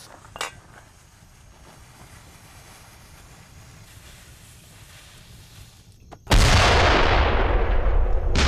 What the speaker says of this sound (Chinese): 准备放炮。